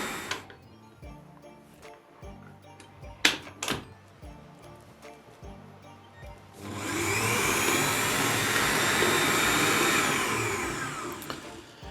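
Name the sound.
electric mixer whipping Prague cake chocolate cream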